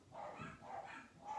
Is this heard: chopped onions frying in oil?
no